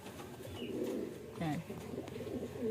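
Racing pigeons coo softly at the loft during a training flight, repeated low throaty calls at close range, with a voice speaking in Filipino over them.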